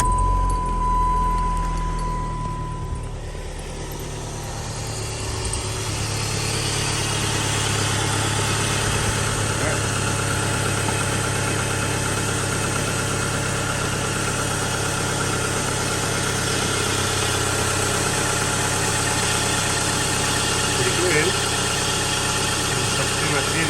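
A Chrysler PT Cruiser idles steadily after start-up, following a heater core bypass, with a low continuous hum and faint vibration running throughout, somewhat muffled and close.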